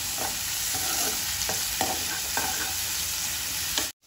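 Curry leaves frying in oil in a pan: a continuous crackling sizzle with soft periodic stirring scrapes, close and steady, ending abruptly.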